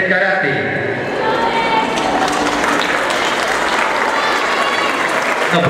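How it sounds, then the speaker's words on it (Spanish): An audience applauding at a summer closing ceremony of a karate and arts academy: dense, steady clapping from a crowd, close and loud throughout, with voices mixed in. "Un aplauso para ellos."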